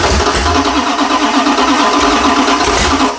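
A 512ci big-block Mopar V8 catching and firing, a loud, rough, throbbing mechanical roar that runs steadily throughout without speech.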